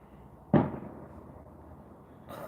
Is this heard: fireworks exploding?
yes